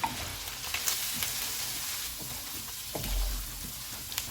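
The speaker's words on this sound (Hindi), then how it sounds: "अब इसमें नींबू का रस डालेंगे, कुटी हुई काली मिर्च, धनिया, इनको मिक्स करेंगे।" Fried beef with lemon juice, crushed black pepper and coriander stirred in a hot pan, giving a steady close sizzle with soft scrapes of the spoon, no talking.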